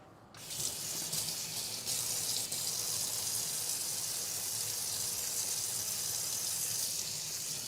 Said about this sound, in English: So let me rinse these off while I can.